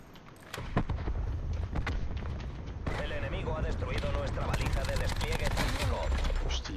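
Rapid gunfire from the online shooter game Rampart, in bursts loud in the mix and continuing without a break across the whole stretch.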